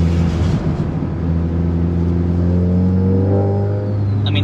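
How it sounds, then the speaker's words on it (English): A Honda Civic Type R fitted with a big turbo, making 547 wheel horsepower, pulls at full throttle: a loud, close engine note rising steadily in pitch with a whistle at the end. "I'm flooring the car."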